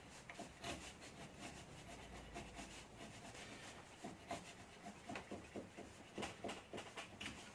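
A steel chisel rubbed back and forth on an inexpensive sharpener, with steady gritty scraping strokes close up that fall into a regular rhythm toward the end.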